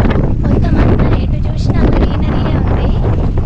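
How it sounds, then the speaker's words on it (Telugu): Strong wind gusts buffet the microphone in the green Vikarabad forest as rain threatens, a loud continuous broadband roar that stays steady throughout. "ఇక్కడ చాలా బాగా గాలి వస్తుంది"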